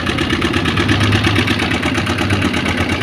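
A Yamaha Aerox V2 scooter engine idles roughly nearby with a steady chugging rhythm and a metallic ticking knock from a noisy cylinder head.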